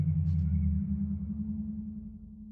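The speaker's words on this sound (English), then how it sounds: "some of them are like whale sounds" Minecraft underwater ambience from the video game, a deep low droning hum like distant whale song with a faint higher tone early on, slowly fading over a few seconds.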